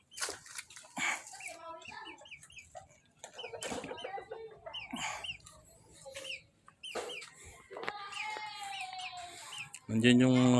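Backyard chickens kept alongside rabbits in a Filipino garden with potted plants cluck in scattered bursts, with a rooster-like call near the end and a person talking in between.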